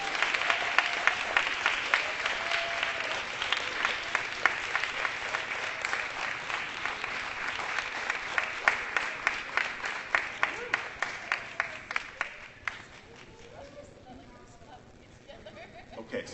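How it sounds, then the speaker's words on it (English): Audience at a community town hall meeting in Rainier Beach applauds in a long, steady round of clapping that gradually thins into scattered individual claps toward the end, with some voices in the room. "let's give them another round of applause"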